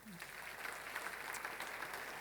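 Audience applause for graduates of a disciples training program, a steady wash of clapping across the whole moment at moderate level, fairly distant and even without clear peaks.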